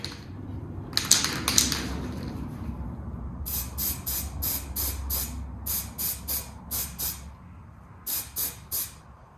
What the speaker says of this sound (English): So we're going to go over and just primer them really quick.